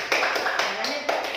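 A classroom of students claps briefly for a classmate, a short burst of scattered hand claps with a teacher's voice speaking over it.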